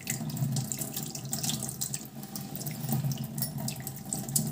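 Tap water runs steadily into a sink over homemade chocolate ice cream moulds to loosen them, a continuous close splashing rush with no talk.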